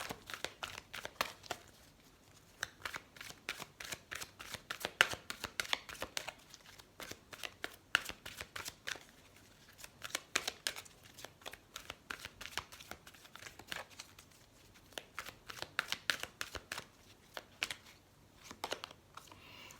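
Oracle cards are shuffled by hand in a steady run of quick, crisp riffling and slapping ticks that repeat throughout, close and moderately quiet, with no talking.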